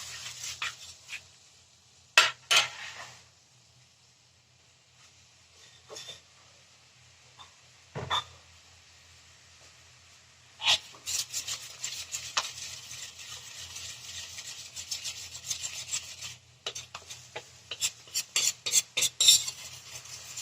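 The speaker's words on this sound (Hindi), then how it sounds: "मिक्स हो जाने देते हैं कढ़ाई में, बिल्कुल गाढ़ा पन आ जाने देते हैं इसमें" Milk and cream stirred in a kadhai while making sesame-jaggery barfi, a spoon scraping and clinking against the metal in sparse bursts at first, then busier rhythmic stirring toward the end, close and without talk.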